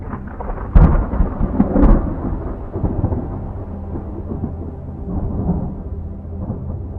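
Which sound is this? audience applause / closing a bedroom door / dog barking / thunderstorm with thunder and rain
thunderstorm with thunder and rain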